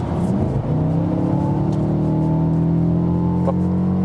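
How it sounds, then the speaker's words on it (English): Mercedes CLA 250 coupé with a 2-liter turbo engine pulling hard from 75 to 100 km/h, a steady rising drone heard from inside the car, no talk. "And let's accelerate from 75 to 100 kilometers"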